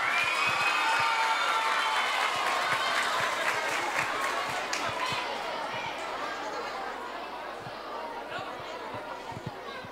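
Audience at a school music recital applauds, a broad crowd clapping that gradually thins into murmuring chatter and scattered claps.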